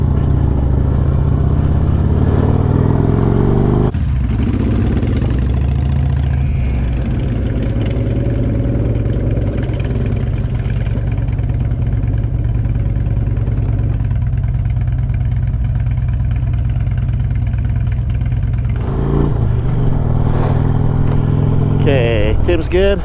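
A motorcycle engine runs close by through the whole stretch, a constant low rumble whose pitch shifts slightly as it idles and revs, with people talking over it.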